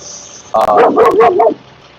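A dog near a hotdog stand gives one close, loud yelping bark that breaks into a short series of whiny yips lasting about a second, then falls silent.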